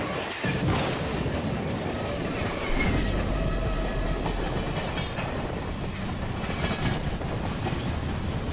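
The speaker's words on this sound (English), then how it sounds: "Looks like we caught our train." A train runs on rails in a horror video game, a loud continuous rumble with rhythmic clickety-clack and high squealing wheels throughout.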